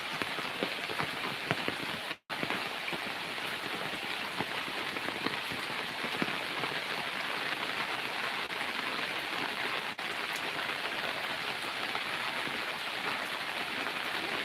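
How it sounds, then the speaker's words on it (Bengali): Torrential rain pours steadily around a poultry farm's chicken house, a dense continuous hiss of drops hitting roofs and ground, uniform throughout apart from one brief dropout, with no voices. "পর্যাপ্ত পরিমাণে বৃষ্টি হচ্ছে দর্শক দেখেন মুসলধারে বৃষ্টি"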